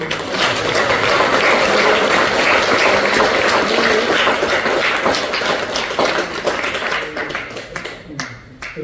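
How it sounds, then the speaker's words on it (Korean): An audience at a health lecture on dementia and exercise applauds in a dense, steady wash of clapping that thins out and fades toward the end. "박수 한번"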